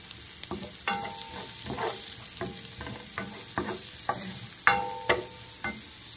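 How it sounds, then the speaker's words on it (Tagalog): Garlic sautéing in a pan for cabbage fried rice, with a steady sizzle broken by repeated scraping stirs of a utensil against the pan, close and fairly loud. "ginigisa ko na ang bawang"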